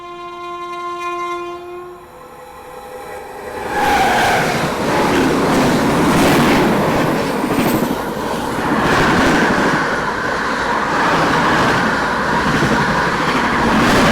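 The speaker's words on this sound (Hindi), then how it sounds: "तो चलिए सबसे पहले महाबोधि एक्सप्रेस जो है वो यहाँ पे ओवरटेक कर रही है" The Mahabodhi Express train approaches with a sustained horn, then rushes past close by in a loud, continuous roar of wheels and carriages rumbling for many seconds.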